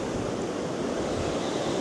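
Wind buffets steadily against the microphone on a beach while shore jigging, with a constant broad rush like surf underneath, even and moderately loud.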